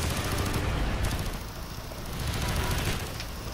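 Mounted machine gun fires continuously in Call of Duty: Black Ops, a dense, loud low rumble of rapid gunfire with engine noise from a moving vehicle underneath, steady throughout with no pauses.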